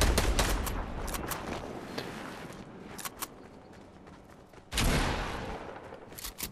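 Fortnite gameplay weapons fire, a rocket launcher among it: sharp repeated gunshot bursts early on, scattered cracks, then a loud blast near the end that trails off.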